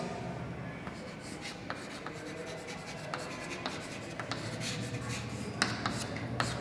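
Pen or marker writing the unit gram weight on a board, a steady faint scratching of strokes with scattered sharper ticks over a quiet, even room background.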